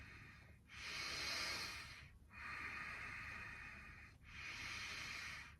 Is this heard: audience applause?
no